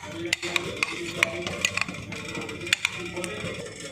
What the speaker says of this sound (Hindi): इन सारी सब्जियों को मैश कर देंगे।